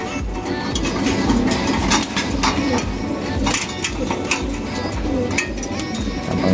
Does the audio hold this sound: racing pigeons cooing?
yes